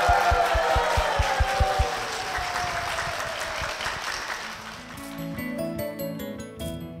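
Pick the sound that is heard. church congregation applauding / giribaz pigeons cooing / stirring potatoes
church congregation applauding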